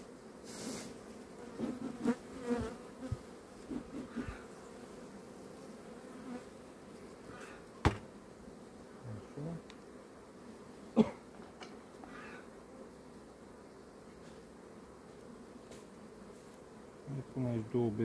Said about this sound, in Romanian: Mare lucru să ai grijă de niște albine